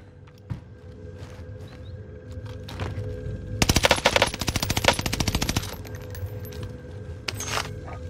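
Automatic gunfire in Call of Duty Warzone, a rapid burst of shots lasting about two seconds from the middle of the clip, loud against a steady game ambience, with a few scattered single shots before and after.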